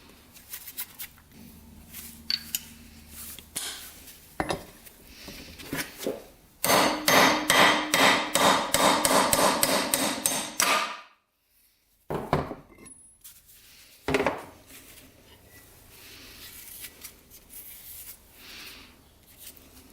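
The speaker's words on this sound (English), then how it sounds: "Now we can punch that bearing out of there." Metal punch hammered against a seized bearing in a 1985 Yamaha YZ80 crankcase, with scattered single taps and then a rapid run of loud ringing blows, followed by a silent gap and a few more isolated strikes.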